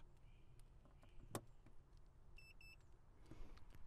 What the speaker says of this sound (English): Notice the little beep beep.